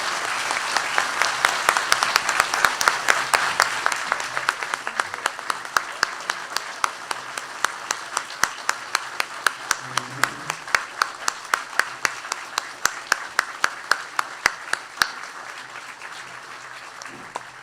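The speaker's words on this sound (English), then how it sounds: "Please join me in a round of applause to celebrate the achievement." Audience applause at a swearing-in ceremony for the new mayor and council of the Cape Breton Regional Municipality, a sustained round of clapping from a crowd indoors that gradually thins toward the end.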